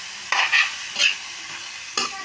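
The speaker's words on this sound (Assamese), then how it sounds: "এতিয়া এইখিনি লৰাই দিম।" Bottle gourd peel and onion being stirred in hot mustard oil, with a few short scraping stirs of the spoon over a soft, steady sizzle, close up and without speech.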